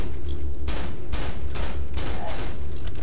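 Gunfire in the horror video game Cry of Fear rings out in about five loud, close shots spaced roughly half a second apart over a steady low rumble, with no speech.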